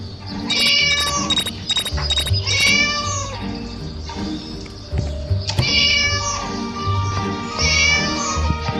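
A cat trapped in the video game Scary Teacher meows repeatedly and loudly, in rising and falling cries with short pauses between bursts, over faint game ambience.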